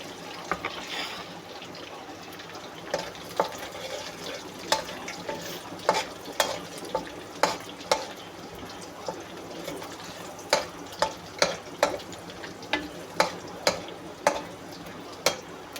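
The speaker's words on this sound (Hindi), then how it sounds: "अब लहसुन देखिए ब्राउन हो रहा है" Garlic frying in a pan for chilli chicken, a soft continuous sizzle broken by repeated sharp clinks and scrapes of a utensil stirring, close and moderately loud, with no talking over it.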